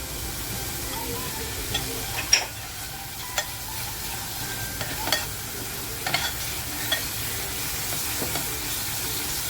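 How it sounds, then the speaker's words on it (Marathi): A paste of ginger, garlic, coriander and green chili frying for a spicy surmai fish masala, a steady moderate sizzle with occasional stirring clicks and spoon taps, no talk. "अद्रक लसूण कोथंबीर मिरची जी पेस्ट आहे ती छान अशी खमंग फ्राय झालेली आहे"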